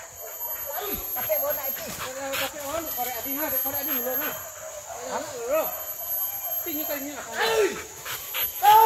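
Hunting dogs bark and bay during a hunt, with wavering, yelping cries repeated in bursts at mid distance, mixed with scattered voices in the background.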